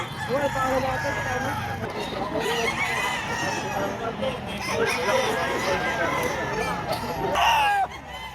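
Chickens cluck and squawk at a busy live chicken market in Lipa, Batangas, scattered calls rising over a crowd of people talking and bargaining nearby.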